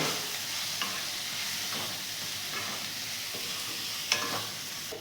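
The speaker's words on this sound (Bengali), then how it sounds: "মশলাগুলো সব ভালো করে কুমড়ো আর আলুর সাথে কষবো" Spices sautéed with pumpkin and potato in a pan for a fish-head pumpkin curry give a steady low hiss with a few soft scraping stirs, fairly quiet and with no talking.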